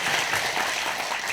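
Applause from an audience at a ceremony launching a council of special self-governing provinces, a brief, moderately loud patter of many hands clapping together.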